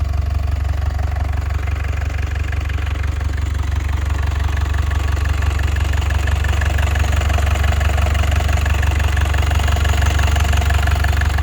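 An engine runs steadily at idle, a loud continuous low rumble with a faint rhythmic ticking, unchanged throughout and with no voices.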